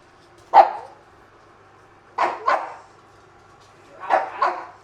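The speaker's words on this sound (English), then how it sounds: "No, I'm doing it now, which is why he's barking." A dog barks indoors in a self-catering lodge, three separate outbursts of one or two sharp, fairly close barks with quiet gaps between them.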